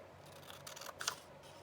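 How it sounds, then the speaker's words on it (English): Scissors snip through paper for handmade ephemera, a quiet soft cut with a brief sharper crunch near the end, close and alone. "So I'm just going to cut up that line"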